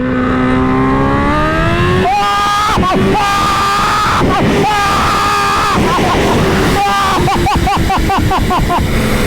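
A Kawasaki Ninja H2 motorcycle fitted with a new exhaust pulls away hard in first gear, its engine revving up loudly through rising pitch, with brief drops and repeated surges toward the end.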